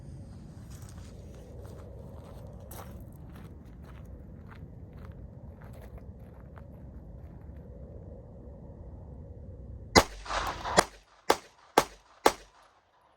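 Five sharp, loud gunshots from a Palmetto State Armory Micro Dagger pistol fire in quick succession near the end, following a long stretch of low outdoor rumble and faint handling noise.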